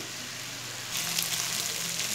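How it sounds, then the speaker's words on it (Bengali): Rice fries with spices in a pan over raised heat, a soft sizzle that swells suddenly midway into a louder, steady crackling fry. "হিটটা বাড়িয়ে আমি 2 থেকে 3 মিনিট মশলার সাথে চালটাকে একটু ভালোভাবে ফ্রাই করব।"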